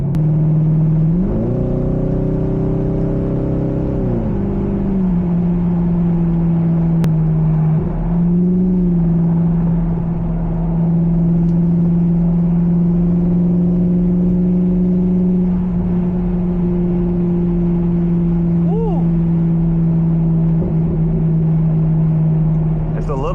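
A C5 Corvette with an automatic transmission drives on a slippery, rain-wet road, its engine droning steadily close by with a rising rev early on, continuous for the whole stretch.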